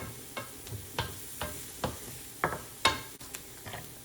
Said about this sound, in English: Don't want our garlic to burn, just want it to cook just a little bit.